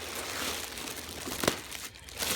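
Plastic packaging around a Martin Logan Vanquish speaker is ripped and crinkled open close by, a steady rustle with one sharper tearing burst midway.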